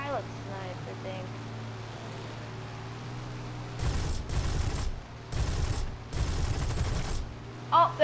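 Several bursts of rapid heavy cannon fire from a P-400 aircraft in the video game War Thunder, in quick succession over a steady engine drone, with brief gaps between volleys.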